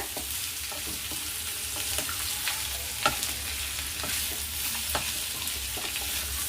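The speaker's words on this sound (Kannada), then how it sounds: "ಈಗ ಹಸಿ ಬಟಾಣಿ ಹಾಕೋತೀನಿ. ಒಂದು 5 ನಿಮಿಷ ತರಕಾರಿ ಬೆಂದರೆ ಆಗೋಗುತ್ತೆ." Vegetables and fresh green peas stir-fry in a pan for vegetable fried rice, giving a steady close sizzle with scattered scraping stir strokes and light clicks throughout.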